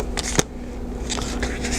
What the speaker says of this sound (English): we're going to spread your cards out